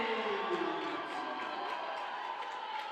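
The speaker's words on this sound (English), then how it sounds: "Cyrus Matthew at least gives this crowd something to cheer about" Crowd cheering at a men's college basketball game between UMass Boston and Salem State, a steady broad roar of fans in a gym that holds through the whole moment without letting up.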